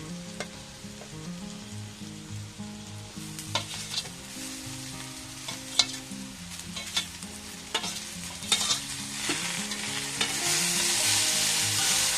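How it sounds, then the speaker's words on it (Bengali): Chickpea greens fry in an uncovered pan with a constant sizzle, broken by repeated scraping and clattering stirs that grow busier toward the end. "এবার আমি আর ঢাকা দেবো না এমনি করে ভেজে নেবো ভালো করে"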